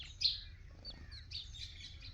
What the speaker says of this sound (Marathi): चिमण्या आहेत